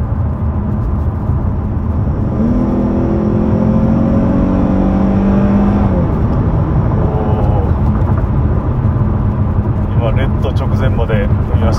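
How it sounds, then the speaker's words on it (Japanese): A Dodge Challenger's engine surges as the driver floors it from around 60 mph, a steady loud roar with rising pitch sweeps, heard from inside the car. "前まで踏みましたけど、まあ勇ましい音がして加速もなかなかのものでした"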